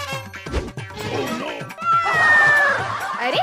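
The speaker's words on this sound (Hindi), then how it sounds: "अरे ये क्या, शेर तो बिल्ली बन गया।" A cartoon cat meows, with sliding high-pitched cries mixed among comic thumps and knocks, loud and close, while animated voices shout and chatter around it.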